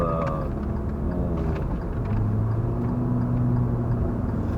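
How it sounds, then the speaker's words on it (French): A Hyundai i20 accelerates in third gear to overtake, its engine note rising steadily under a constant rush of road and wind noise heard from inside the cabin. "Reprise, une petite reprise en troisième, donc pour doubler."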